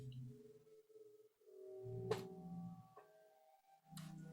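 Microtonal fractal computer music with 96 tones per octave, built from fractal mountain data: soft sustained synthetic tones shifting in pitch, with a brief bright accent near the middle and quiet gaps between phrases.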